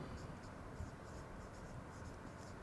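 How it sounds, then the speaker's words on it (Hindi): Chalk or marker writing out a question on a classroom board, a faint continuous scratchy scrawl under steady room noise with no talking. "तब तक मैं क्वेश्चन लिखता हूँ।"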